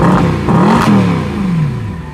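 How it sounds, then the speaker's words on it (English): Mercedes SLS AMG Black Series exhaust revving loudly from close behind the car, a rising engine growl that peaks and then settles into a slowly falling, steady drone. "this car has a very loud and attention grabbing exhaust note"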